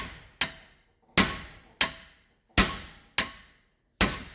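A hammer strikes the wheel bearing hub on a 2016 Subaru Impreza seven times at a steady, forceful pace, each loud metallic clang ringing briefly before the next blow, with no talking.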